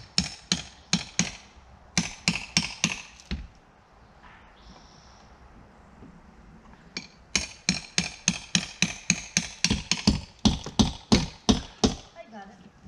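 A hammer raps in quick rhythmic runs while working on T1-11 wood house siding, sharp close strikes in two bursts separated by a quieter pause with a brief high whine.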